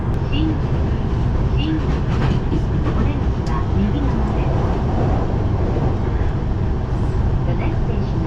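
A Tokyo train in motion on the line toward Shinjuku, a continuous loud rumbling roar of wheels and carriage noise with faint rhythmic clatter, steady throughout with no clear talk over it.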